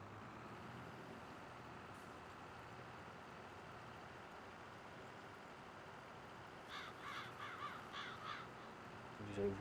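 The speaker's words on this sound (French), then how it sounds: "vous allez vous taire les corbeaux là." Crows caw in the farm game Farming Simulator 22, with a burst of repeated calls near the end over steady low in-game ambience and engine hum.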